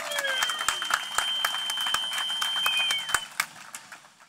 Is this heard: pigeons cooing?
no